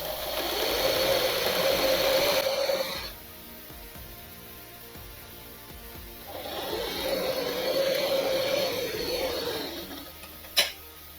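A sewing machine stitches a blouse seam in steady, close-up bursts: a run of about three seconds, a pause, then a longer run of roughly four seconds, with a brief sharp click near the end.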